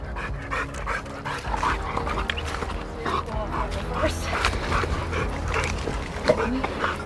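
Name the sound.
hunting dogs released to track wild hogs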